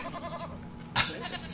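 A sheep bleats in the animated movie The Adventures of Acela, a short wavering cry with a brief sharper burst near the end, moderately loud over faint background sound.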